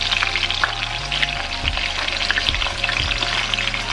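Two red snapper fish frying in shallow hot oil for Jamaican escovitch, a dense close crackling sizzle with rapid popping, loud and continuous with no talk.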